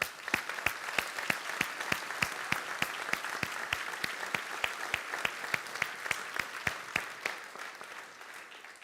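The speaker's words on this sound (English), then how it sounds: "let's give all our nominees a big round of applause" Audience applause for award nominees at a civic address comes as evenly spaced, rhythmic claps, about three per second, fairly soft and steady throughout.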